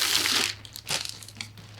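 A sealed box holding a 1/6 scale Westley collectible figure is opened, its original tape tearing free. There is a loud crinkling rip at first, then quieter rustles and short crackles of cardboard and tape, with no voices.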